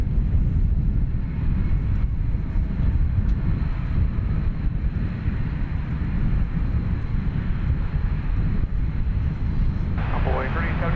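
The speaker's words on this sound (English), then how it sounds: "So that plane's off to Honolulu." A Qantas heavy jet airliner departs DFW Airport at night, a deep, steady low roar rumbling in the distance for the whole stretch, with a voice talking faintly near the end.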